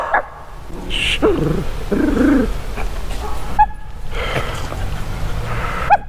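Dogs growl and whine close by outdoors on a London street walk, rough bursts of low rumbling and yelps in the first few seconds, then quieter snuffling with occasional squeaky calls.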